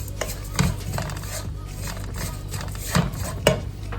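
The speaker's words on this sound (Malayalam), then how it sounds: "ഇതെല്ലാം കൂടി നല്ലപോലെ ഒന്ന് ഇളക്കി കൊടുക്കാം" A spoon scrapes and clinks in a pan as chili powder and turmeric are stirred over a low flame, with soft irregular metallic taps and scrapes over a quiet background.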